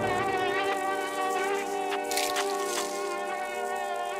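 A fly buzzes steadily in the side-scrolling video game Limbo, a close, continuous insect drone with a few brief overlapping higher swells, with no speech over it.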